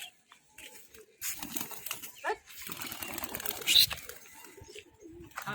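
Domestic pigeons coo in soft bursts, with short flurries of wing flaps close by in a quiet home setting and a faint voice murmuring in the background.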